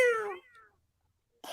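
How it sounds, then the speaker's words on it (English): A cat gives one clear, fairly loud meow that slides downward and trails off, followed by silence and then a brief rustle. "has he got the cat in there?"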